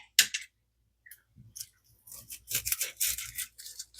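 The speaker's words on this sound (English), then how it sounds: "Now I'm going to cut this onion." A knife cuts an onion in a home kitchen: crisp, separate slicing crunches, first spaced out, then coming in a quicker, denser run near the end, close and fairly loud.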